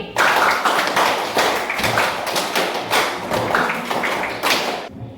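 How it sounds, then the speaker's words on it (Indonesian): A class of students claps a five-beat pattern three times over, rhythmic groups of loud, roomy unison claps with short gaps, ending abruptly. "Tepuk 5 3 kali."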